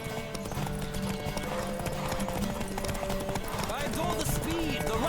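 Hooves clatter in a fast, steady gallop from a horse in The Witcher 3: Wild Hunt, close and continuous over game music, with a short whinny and a rider's voice calling out near the end.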